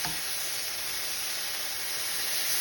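Garlic and onions sizzle in a hot pan with a dense, even hiss that runs steadily throughout, close and fairly loud.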